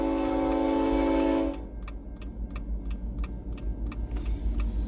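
Train passing through Lloydminster, a loud sustained horn blast that cuts off, followed by a steady rhythmic clatter of railcars rolling past over low rumbling.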